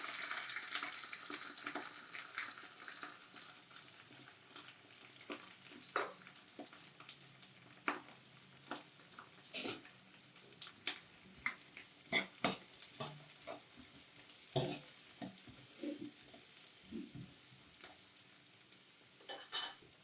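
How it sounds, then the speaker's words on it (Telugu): Onions and green chillies fry in hot oil for chicken fry, a steady sizzle that starts loud and eases off, broken by sharp clinks and scrapes of a stirring spoon against the pan. "ఆయిల్ కాగిన తర్వాత ముందుగా కట్ చేసి పెట్టుకున్న ఆనియన్స్ అండ్ గ్రీన్ చిల్లీ ఇందులో వేసుకోవాలి"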